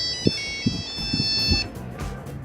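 A Nokia 3310 that survived a 1,000-foot drop rings with a steady, tonal ringtone for about a second and a half, while low thumps and handling knocks sound close by underneath it.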